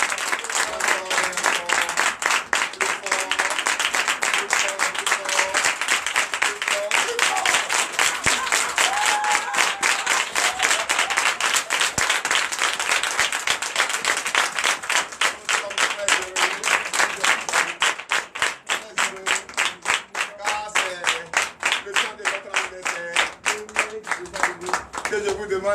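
A church congregation at a Sunday worship service in Benin claps and cheers in a dense, continuous burst of rhythmic applause that fades near the end, with a voice speaking over it.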